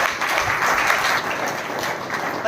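An audience at a Hindi prayer gathering bursts into dense, continuous applause, a bright crowd of clapping hands that stays loud and steady throughout.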